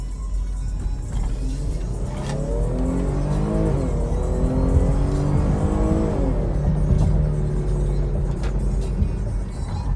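Jeep Grand Cherokee with a 3.5 engine and 8-speed transmission accelerating hard, its engine note climbing and shifting steadily through gears for several seconds, close and loud with no talking.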